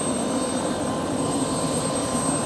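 A retrofitted older helicopter lifting off, its engine and rotor giving a steady, loud broadband roar that holds constant throughout with no talk over it.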